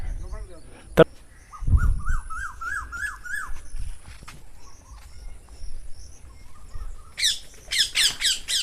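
Many kinds of birds squawk, chirp and call at a bird farm holding about 200 species, with sharp repeated calls, a rising run of chirps and a dense burst of high calls near the end.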